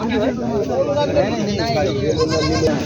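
Goats bleat repeatedly and close by at a large goat and sheep market in Maharashtra, overlapping wavering cries with crowd chatter and babble underneath.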